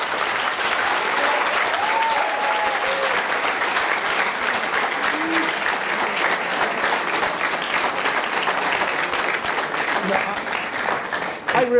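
An audience at a panel discussion on democracy applauds for about twelve seconds, a dense, steady clapping that fills the room and fades slightly before a final burst.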